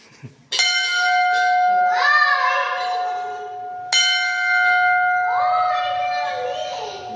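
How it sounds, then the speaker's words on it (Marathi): Two clear strikes of a temple bell at the Vajreshwari Mata temple, each ringing out with a long shimmering decay, loud and close. "घंटी वाजवा."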